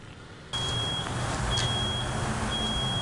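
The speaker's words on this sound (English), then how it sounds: "Fire alarms still going off more than 40 hours after this Pines of Perinton unit went into flames" Fire alarms at a burned-out apartment unit keep sounding, a steady high electronic tone running over a constant low rumble of outdoor background noise.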